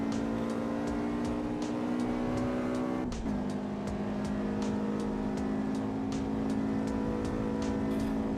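BMW race car engine in the AC EVO racing video game, a steady loud droning tone held at high revs with a brief drop at a gear shift, alongside repeated faint clicks.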